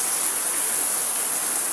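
Heavy rain pours down in a continuous, even hiss that fills the whole moment, close and fairly loud, with no voices over it.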